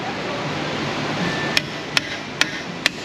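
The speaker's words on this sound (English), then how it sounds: "Hammer that guy back" Four sharp, ringing hammer blows land about half a second apart on a bent part of a Ford Ranger XLT 3.0 4x4, struck over a steady background hiss.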